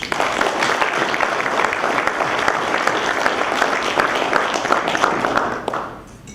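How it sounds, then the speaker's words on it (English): Sustained applause from an audience at an awards ceremony, loud and dense with steady clapping from many hands, tapering off in the final second. "A round of applause for him, please."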